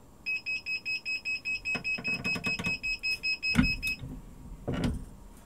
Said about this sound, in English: It's down to 7 seconds, and once it beeps, we should be in business.